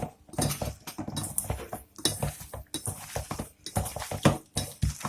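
Meatball mixture with egg and chopped onions is worked together by hand, making wet, squelching, slapping pulses in an irregular rhythm, close and fairly loud, with no talk.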